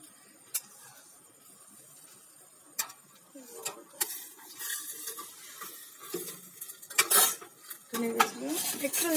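Boiled peas for ghugni are stirred in a pan, making scattered clinks and scrapes of a metal spoon on cookware, quiet at first and then busier and louder toward the end.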